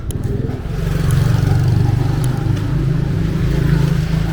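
Motorcycle engines rumble close by in a busy Marrakesh street, a steady low drone with a rising rev and some clatter throughout the few seconds.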